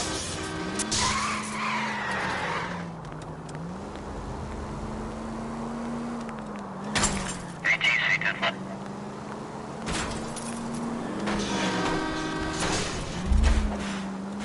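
A stolen green Kaiser Fraser chased through city streets in L.A. Noire: a droning engine with repeated tire screeches and skids, bursts of crashes and clatter, a voice speaking now and then over the action.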